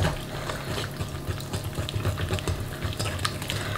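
A spoon or whisk works through cake batter after milk and oil go in, a busy wet churning with soft irregular clicks against the bowl, steady and close throughout.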